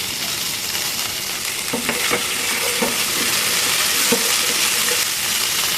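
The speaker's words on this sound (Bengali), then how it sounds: "এখন এর মধ্যে রসুন কুচি দিয়ে দিচ্ছি তেল যাতে না যায়" Chopped garlic sizzling steadily in hot oil in a pan for an okra dish, a continuous close frying hiss broken by a few light scrapes and knocks of stirring.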